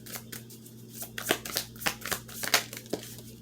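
Tarot cards are shuffled and drawn by hand in a quick run of crisp, riffling slaps and flicks, close and fairly soft, with no talk.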